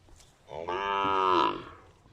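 A cow at a cattle pen gives one long, loud, close moo lasting about a second, rising and then fading, with no talking over it.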